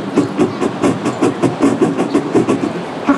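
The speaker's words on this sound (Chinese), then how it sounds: "例如说蒸汽火车会发出这样的声音" A recording of a steam locomotive plays back in a lecture hall. It gives loud, evenly spaced chuffing beats in a quick, steady rhythm, with no talking over it.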